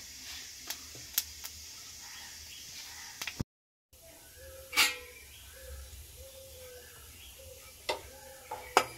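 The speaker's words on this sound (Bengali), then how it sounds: "কড়াই সবার প্রথমে দিয়ে দিচ্ছি সর্ষের তেল, দিয়ে দিচ্ছি একটা শুকনো লঙ্কা আর কালো জিরে হাফ চামচ ফোড়নে" Mustard oil tempering with a dry red chili and nigella seeds in a wok, a soft, steady sizzle and hiss with scattered sharp pops and ticks, cut by a brief silent gap.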